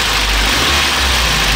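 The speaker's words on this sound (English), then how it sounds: "Obviously the engine is just warming up, so I will be not revving it too much." A Toyota truck engine with an overheating problem idles while warming up, a steady low rumble with a constant throb, close and loud with no talking.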